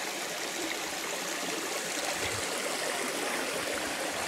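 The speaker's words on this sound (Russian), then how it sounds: "А вот он, этот водопадик. Маленький, но все равно красивенький." A small mountain waterfall near Lake Panagia in Crimea sends a steady, even rush of splashing water. The sound stays constant and close throughout, with no voices.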